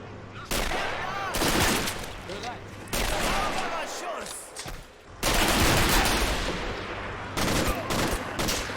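Machine gun fire in Men of War: Assault Squad, a Barbarossa 1941 battle against a Soviet defense line, rattles in dense sustained bursts with short gaps, loud and close, with occasional talk underneath.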